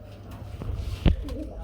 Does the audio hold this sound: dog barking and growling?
no